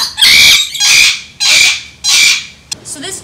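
Birds at an aviary on a veterinary school campus call out loudly and close by in four strong, drawn-out squawking bursts, followed by a short sharp chirp and softer trailing calls.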